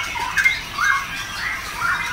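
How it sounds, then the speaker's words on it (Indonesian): A caged bird being packed for shipping lets out repeated harsh squawks, three or four loud bursts in a bright piping pattern, close by with no talking. "Semoga burung selamat sampai kota tujuan Kang Ahmad Shiro."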